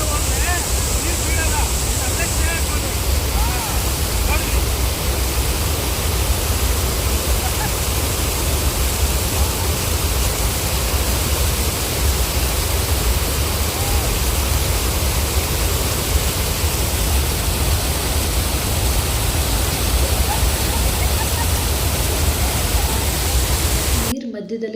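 Rushing water at Balmuri Falls pours as a loud, dense, unbroken roar that fills the whole stretch, steady in level, before stopping abruptly at the very end.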